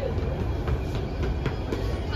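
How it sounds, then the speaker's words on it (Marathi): A Mumbai metro train runs with a steady low rumble and rhythmic rail clatter heard from inside, with voices talking over it. "बाबू मेट्रोची मजा घेतो."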